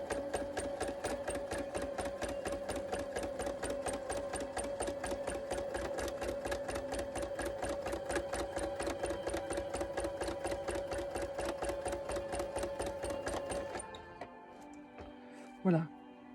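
A sewing machine quilts a flower outline, running at a fast, even needle rhythm for about fourteen seconds before it stops, followed by a few faint clicks and one brief louder knock.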